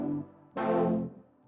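A wide, detuned synth lead layer with many stacked voices sounds two sustained chords, separated by a short gap, with a third beginning at the end. It plays alone and fairly quietly.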